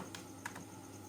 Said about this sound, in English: let's type in green first.